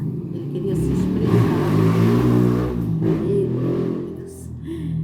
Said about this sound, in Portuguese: é uma moto, gente